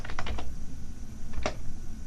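Keystrokes on a computer keyboard while entering a footnote in a Word document, a few quick clicks early on, then a pause and a couple more taps, close and clear over a steady room hum.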